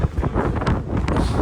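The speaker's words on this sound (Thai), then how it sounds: "โอ้ลมเย็นมากเลย" Wind buffets the microphone outdoors at a tall observation tower landmark in Roi Et, Thailand, a loud, rough rumbling gust lasting under two seconds with no clear speech.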